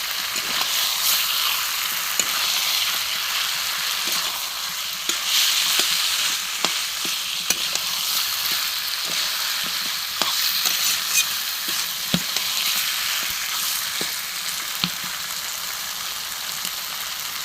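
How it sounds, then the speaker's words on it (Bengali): Mutton coated in marinated spices fries in a wok, a loud, dense, continuous sizzle broken by scattered clicks and scrapes of stirring, close up with no one talking. "মেখে রাখা মশলা দিয়ে খাসির মাংস আমি কড়ার মধ্যে ঢেলে দেবো"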